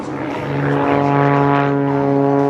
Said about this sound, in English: He pulls the airplane inverted